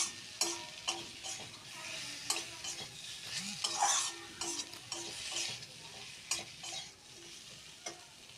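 Katla fish curry masala with cumin powder fries in a pan. A soft, continuous sizzle runs beneath repeated clinks and scrapes of a spatula against the pot as it is stirred and turned.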